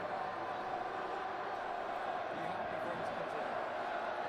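Rugby crowd at an OA's versus Harlow match roaring steadily as a departing player gees them up, a dense continuous wash of distant voices with no breaks.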